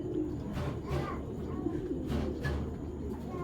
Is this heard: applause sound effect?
no